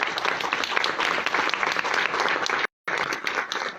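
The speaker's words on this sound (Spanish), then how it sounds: "ya para concluir, agradecemos con un aplauso a la maestra Alejandra Hernández" An audience at a book presentation applauds with dense, steady clapping that fills the room, briefly cut off near the end before resuming.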